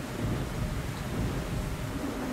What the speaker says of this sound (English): Now this is a storm.